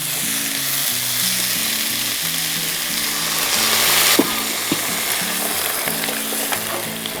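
Tomatoes frying in a pan as water is poured in, giving a loud, steady sizzle that swells briefly as the water hits, with a few clinks and steady music playing underneath.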